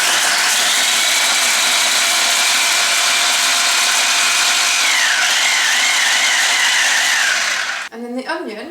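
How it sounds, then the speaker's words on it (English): A small mini food processor pulses garlic and chilli in a steady, loud whir that runs almost continuously, the motor pitch dipping briefly as the blades work, then stopping abruptly before a few clattering knocks. "I'm doing garlic and the chilli first, because I want them to be smallest"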